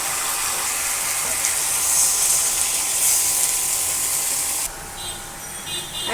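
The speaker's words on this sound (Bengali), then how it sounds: "এখন আমি ঝোল দিয়ে দিব।" Broth poured into a pan of simmering fish-head curry, a steady broad hiss and sizzle that holds evenly, then drops abruptly to a quieter bubbling simmer near the end.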